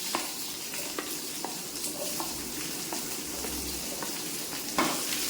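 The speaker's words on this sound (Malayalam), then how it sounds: "സവാള ഇട്ട് കൊടുത്ത് നന്നായിട്ട് അതിനകത്തിട്ട് നമ്മുടെ എണ്ണയ്ക്കകത്തിട്ടൊന്ന് വഴറ്റുന്നുണ്ട്" Sliced onions sauté in oil in a pan, giving a steady, fairly quiet sizzle. Occasional light taps and scrapes of a stirring spoon come through, with no voices.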